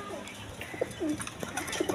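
Soft coos from a pair of Rasgolla pigeons, several short rolling calls close by over a quiet background.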